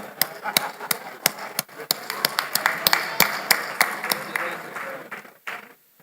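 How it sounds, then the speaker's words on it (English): Sharp claps ring out at an engineering institute's formal ceremony, spaced irregularly and fairly close, with a low murmur of voices beneath them. "If you don't clap for me, I will clap for myself."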